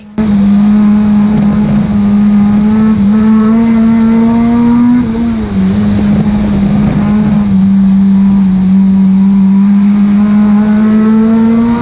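A stock car engine drones loud and steady at Cowdenbeath Racewall, a sustained revving tone with slight pitch dips as the car laps a damp oval track alone, no talk over it.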